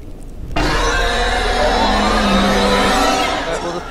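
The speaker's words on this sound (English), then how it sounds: "the pig is coming for us" A pig monster in the horror video game Labyrinthine lets out a loud, sustained squealing, whinny-like cry that bursts in suddenly and holds steady over a dense, noisy backdrop.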